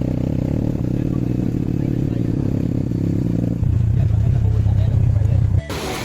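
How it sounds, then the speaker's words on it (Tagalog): A Philippine motor tricycle carries passengers to a river, its engine droning steadily up close with rattling bodywork and a shift in engine tone partway through before it eases off. "Ayan, nakasakay na kami ng tricycle."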